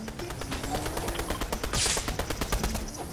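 Gunshots in Fortnite, a rapid run of sharp, closely spaced shots in a fast rhythm, with one brief louder burst near the middle.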